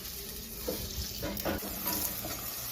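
Chopped onions fry in hot ghee in a pan for shahi dal, a steady close sizzle with occasional scrapes and stirs of a spoon, no talk.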